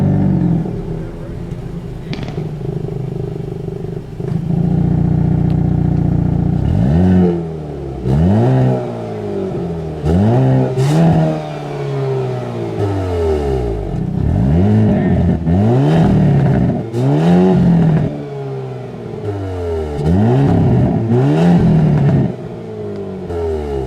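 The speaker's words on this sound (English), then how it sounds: "these large diameter variable exhaust outlets pumping out an absolutely phenomenal noise" 2022 Hyundai Kona N, 276 hp, revving through large-diameter variable exhaust outlets, close and loud, with repeated sharp rising and falling blips and crackles between throttle stabs.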